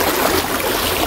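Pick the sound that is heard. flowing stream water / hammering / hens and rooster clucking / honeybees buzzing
flowing stream water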